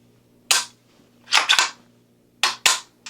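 A function check on a pistol caliber carbine, a Springfield Kuna or Bear Creek BC9, produces a series of sharp, close metallic clicks and snaps in small clusters, separated by near silence.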